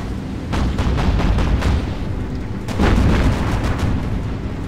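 Naval shell hits and explosions in the Battlestations: Pacific warship game, a run of heavy booming blasts and rumbling impacts, loud and close, in two dense bursts.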